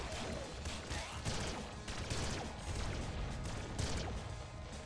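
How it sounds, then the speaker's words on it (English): Laser shotgun weapon in the game Nuclear Throne (Ultra Mod), dense rapid bursts of firing blended with chaotic game effects, continuous and fairly loud. "Good old laser shotgun."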